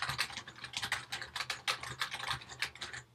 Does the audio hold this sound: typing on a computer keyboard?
yes